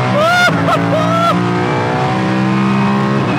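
Pagani Huayra R engine revving hard, loud and close, with sharp rising and falling rev sweeps early on before settling into a sustained, steady high-pitched drone.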